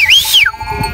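A sheep on the steppe with a shepherd's flock gives one loud, close, wavering bleat, followed by low rustling and a faint second call.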